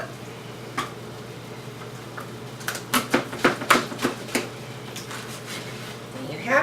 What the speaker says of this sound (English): Let's cut that in half like that.